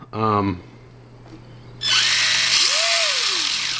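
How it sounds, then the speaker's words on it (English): Kyosho NSR 500 hang-on RC motorcycle with a Sidewinder ESC and 5400 kV electric motor, giving a brief whine, a pause, then a loud sustained high-pitched rev that sweeps down, close by, with a voice at the start. "I have a Sidewinder ESC and a 5400 kV motor in it that cooks pretty well"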